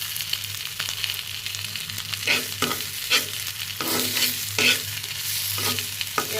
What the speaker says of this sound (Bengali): আর এখানে পেঁয়াজ কাঁচা মরিচ ভেজে নিচ্ছে।